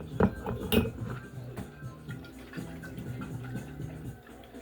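Sugar stirred into a glass while making chello: a spoon clinks sharply against the glass a couple of times, then keeps up a soft, steady swirling scrape at close range.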